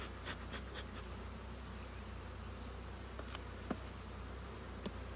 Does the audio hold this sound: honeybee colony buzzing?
yes